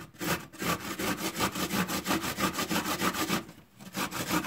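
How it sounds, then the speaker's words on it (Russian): Fresh ginger rubbed quickly back and forth on a kitchen grater while a spiced homemade liqueur is prepared, a steady rasping scrape in rapid rhythmic strokes, close and fairly loud, with no talking. "Потрем на терке."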